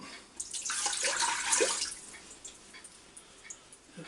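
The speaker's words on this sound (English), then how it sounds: "now I've got this exactly a cup and a half of water here. And we'll put it inside this pot." A cup and a half of water poured into the inner pot of an Instant Pot Duo Crisp, a short bright splashing pour lasting about two seconds, followed by faint drips and small clinks.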